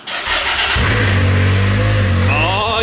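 A Can-Am Maverick X3 engine running on E85 with exhaust leaks cranks and catches, then revs up loudly with a deep, throaty exhaust rumble that rises in pitch near the end.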